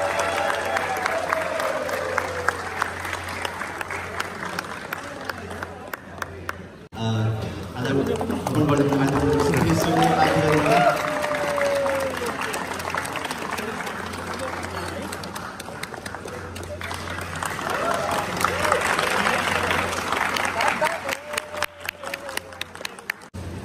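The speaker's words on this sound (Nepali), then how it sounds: "प्लिज सबैजना ताली बजाउनु होला।" An audience claps and cheers at a hosted event where a guest is invited to the stage. The sustained broadband applause runs throughout, rising and falling, with crowd murmur and voices mixed in.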